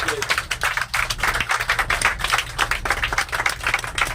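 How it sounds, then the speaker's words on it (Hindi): An audience at a business team gathering claps in a steady rhythmic beat, fairly close and moderately loud, with individual hand strikes distinct throughout. "एक बार तालियां जरूर होनी चाहिए"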